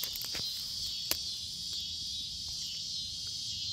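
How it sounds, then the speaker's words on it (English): Loud, continuous high buzzing of cicadas in a summer vegetable garden beside rows of tomatoes, a steady droning wall of sound with a couple of faint clicks and no speech. "cicadas are wanting to scream really loud right now."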